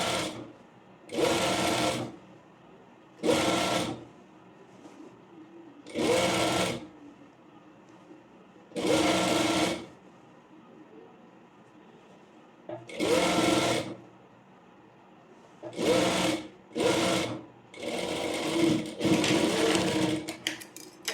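A sewing machine stitches a frill frock in eight or nine short bursts of rapid whirring, each a second or two long with quiet pauses between, close and fairly soft.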